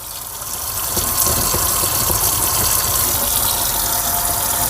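Water runs steadily from a faucet into a sink as hands are wetted for a nursing-assistant handwashing routine, a continuous close gushing stream with no talk.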